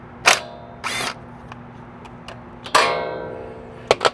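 A T30 screw holding a Cybertruck wheel speed sensor is removed with a tool, heard as a few short whirring bursts between sharp clicks and metallic ticks, close and without talk.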